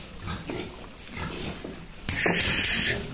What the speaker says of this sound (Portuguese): Os porcos é bom de ração.